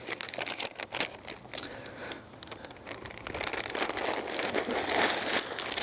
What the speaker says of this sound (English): Into the plastic bag.